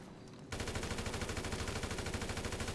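Rapid automatic gunfire in Grand Theft Auto Online bursts in after a brief quieter moment and hammers on steadily and loudly at an even, fast rhythm until the end.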